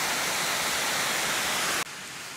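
Fast-flowing river water where trout live rushes in a dense, steady hiss close by, then drops abruptly to a quieter, more distant flow near the end, with no voices.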